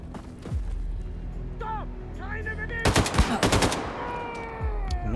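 Bursts of rapid gunfire in the game Wolfenstein II: The New Colossus, a tight volley of sharp shots in the middle, mixed with electronic chirps and whooshing effects.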